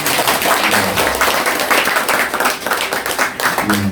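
An audience at a book talk for an essay collection claps warmly, a dense burst of applause filling the space for nearly four seconds, with a few individual claps standing out near the end.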